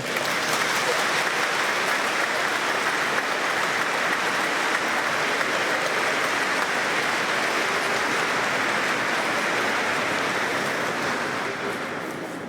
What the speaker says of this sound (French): Vous pouvez les applaudir alors.